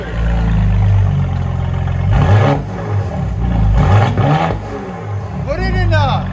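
A 2019 Mercedes GLE 43 AMG with a 3.0L bi-turbo V6 and straight-piped dual exhaust revs up and down in several loud, close blasts, with voices heard briefly near the end.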